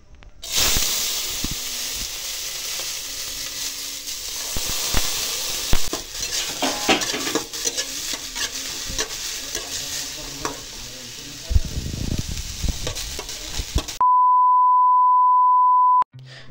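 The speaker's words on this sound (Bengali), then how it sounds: "গাজর আর বিনস কেটে রেখেছি আমি, তো ওগুলো ভাজবো বলে আমি একটু সামান্য তেল দিয়েছি" Chopped carrots and beans fry in a little oil with a loud, continuous sizzle and hiss, broken by stirring clatter. Near the end, a steady electronic beep tone takes over.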